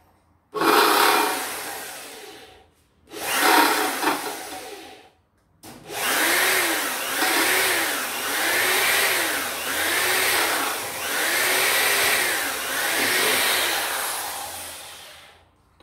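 A power drill bores a hole with a steel bit: two short whining bursts, then a long steady run that pulses rhythmically as the bit works through the material. The sound is loud and close, with no voices.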